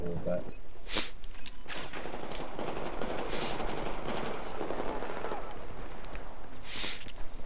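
Gunfire in the video game Battlefield 4 crackles in bursts of rapid shots alongside heavy rumbling blasts, loud and dense throughout, with players talking over it.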